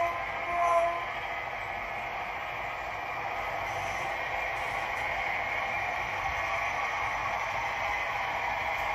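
An HO scale model train rolls along a layout steadily with a continuous low rumble and whir, fairly close and even throughout, with no voices.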